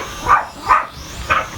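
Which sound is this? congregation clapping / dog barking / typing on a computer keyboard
dog barking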